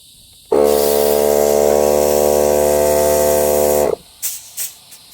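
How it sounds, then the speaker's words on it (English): A small air compressor beside an abandoned 2008 Honda Recon ATV runs for about three seconds, a loud, steady droning buzz with a constant hiss that stops abruptly, followed by a few faint knocks and rustles. "I've got my little air compressor here"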